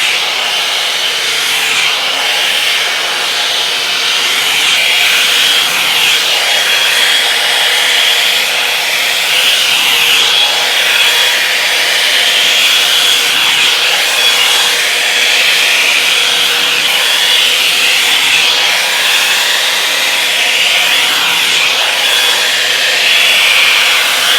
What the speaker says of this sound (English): I'm going to put this in the highest heat setting, and let me just start drying this section.